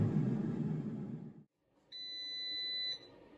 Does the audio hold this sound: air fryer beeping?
yes